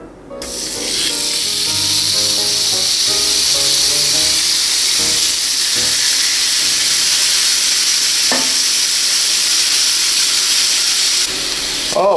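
Swordfish sears on a hot grill pan with olive oil, a loud, sustained close hiss that rises sharply as the fish goes in and holds steady for several seconds with no speech.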